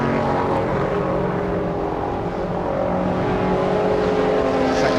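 A classic pre-1966 GT race car, a Jaguar E-Type, drones steadily on circuit during qualifying, its engine note a continuous loud roar mixed with other cars and track ambience.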